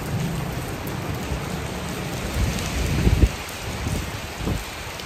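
Steady rain falls during Taiwan's rainy season, a dense continuous hiss on surfaces with a few soft low rumbles and thumps rising around the middle, no voices.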